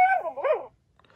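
A FurReal Friends Walks a Lot Llama toy gives one short electronic dog-like yelp, a bright rising-and-falling cry close by, followed by near silence.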